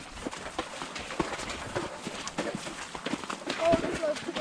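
Hooves clip-clop on the ground as a horse is ridden outdoors alongside another rider, a fairly steady walking beat that sits under near-constant talking.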